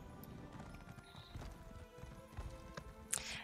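A horse's hooves clip-clop steadily while riding in the video game Elder Scrolls Online, a quiet rhythmic trot with an occasional snort.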